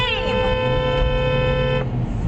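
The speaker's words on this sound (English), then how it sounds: "Stop honking him." A car horn blares in one long sustained honk at a Tesla driver, loud and close in traffic, cutting off abruptly near the end while voices are heard around it.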